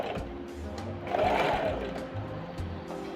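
A sewing machine stitches a zigzag finish along fabric for a gathered ruffle, its motor whirring in a steady rapid run that swells in the middle, close and clear with no talk.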